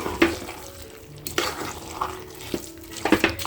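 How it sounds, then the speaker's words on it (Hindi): Carrot halwa with jaggery stirred in a pan, giving intermittent scraping and light sizzling strokes at close range, alone without talk. "तो अब हमें इसे मेल्ट होने तक अच्छे से मिक्स करना है।"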